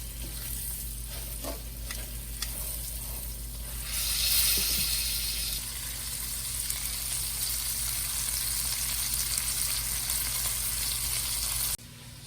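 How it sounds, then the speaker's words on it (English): Steady, close sizzling and crackling of chicken frying in a hot pan, continuous throughout with a few faint clinks and no talking. "while that chicken is sizzling away on the stove top"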